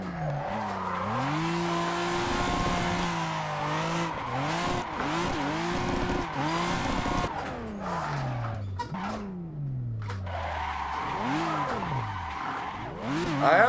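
A Toyota Supra drifting in Assetto Corsa with a sim racing wheel: loud sustained tire squeal with sweeping pitch as the slide swings back and forth, under a revving engine that rises and falls.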